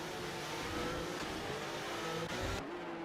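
Several race cars drone along in close formation around Spa in a sim racing league event, a steady layered engine roar with slight revving, loud and continuous, cutting off abruptly near the end.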